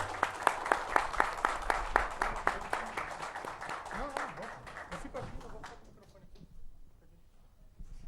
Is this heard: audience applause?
yes